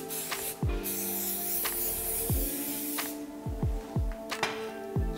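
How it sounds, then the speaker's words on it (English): 4 Seasons hairspray is sprayed in a barbershop after a men's haircut, a loud, close, steady hiss lasting a couple of seconds, with softer dull thumps and a low hum around it. "for the end, I use very good product, 4 Seasons hairspray"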